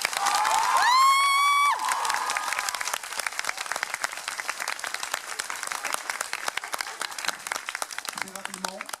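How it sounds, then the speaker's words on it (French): An audience at a year-end party breaks into loud cheering and whistling over applause, then settles into sustained close, crisp clapping that thins toward the end, with shouts and voices mixed in. "D'applaudissements, s'il vous plaît."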